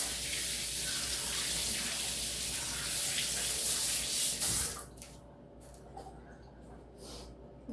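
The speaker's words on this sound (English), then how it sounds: "I'm going to wash my hand real quick." A kitchen faucet runs in a steady, loud close-up stream as hands are washed under it for several seconds, then the water shuts off, leaving quiet room tone with a few light drips and handling sounds.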